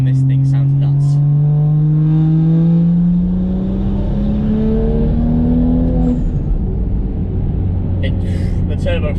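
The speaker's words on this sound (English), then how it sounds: "the blow-off valve on this thing sounds nuts." A tuned BMW with a manual gearbox revs up, its engine note rising steadily before the throttle lifts and the turbo blow-off valve releases a brief flutter, heard from inside the car with a voice talking over it.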